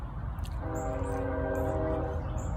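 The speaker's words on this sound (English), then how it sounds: "I hear a train going northbound." A northbound train rumbles by in the distance with a low steady roar, and a horn sounds briefly over it.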